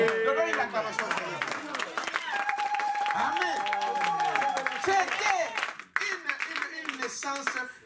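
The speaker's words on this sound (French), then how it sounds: "Donnons une acclamation" Church congregation applauding and cheering during a sermon, a dense run of clapping mixed with voices and shouts. It drops briefly near the end, then picks up again.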